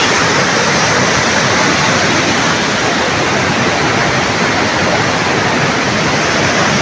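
Cold spring water from Mount Banahaw rushes through a stream in Majayjay, Laguna, swollen by rain: a loud, dense, unbroken roar close by, with no voices.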